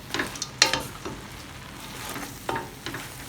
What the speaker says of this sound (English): So just mix it well, and all the vegetables and the noodles